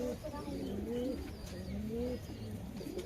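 A male pigeon gives low, rolling coos close by in a pigeon loft, repeating several times over a steady background hum. Faint voices may sit underneath.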